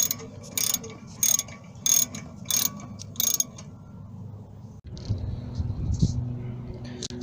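A ratchet wrench loosens a bolt on a 2007 Mazda 3 rear brake caliper, five quick clicking bursts close by, then quieter metallic handling and shuffling.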